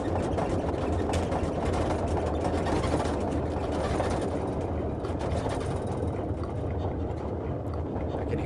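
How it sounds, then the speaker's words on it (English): Two radial engines of a Boeing 247D airliner in Microsoft Flight Simulator 2020 throttled back to a slow idle, a steady, even low rumble with no voices over it. "I can hear those engines getting slow."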